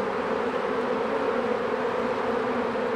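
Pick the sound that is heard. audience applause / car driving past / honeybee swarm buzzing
honeybee swarm buzzing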